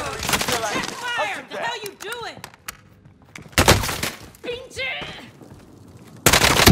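Gunfire in Call of Duty: Modern Warfare: loud bursts of shots break out between stretches of radio-style talk, with a heavy volley in the middle and another at the end.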